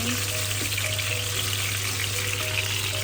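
Tomatoes sizzle and fry in a hot pan for a simple omelette, a steady close crackling hiss that runs unbroken with no talking.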